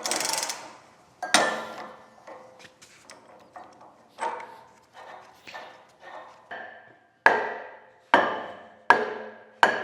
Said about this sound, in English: It's a 3/4 inch drive socket, 1 7/16 nut here.